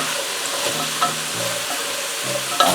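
Pumpkin and carrot sauté in a pot with a strong, steady sizzle, joined by occasional stirring scrapes and a clack of a utensil near the end.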